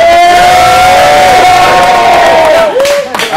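A rap battle crowd at a live event cheers and shouts loudly and continuously, with a sustained whistle-like whoop riding over the dense roar before a brief dip near the end.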